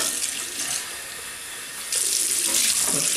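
Water runs from a tap into a sink while shaving cream is rinsed off, a steady close hiss of flowing water that grows louder and splashier partway through.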